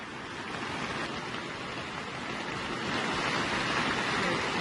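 Hail and rain fall hard outdoors during a storm, a dense continuous hiss of broadband noise that swells slightly midway, with no voices.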